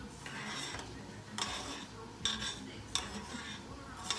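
Corned beef hash, browned, stirred in a pan with a utensil: periodic scraping and clinking strokes in short bursts, close and moderately loud, no talk.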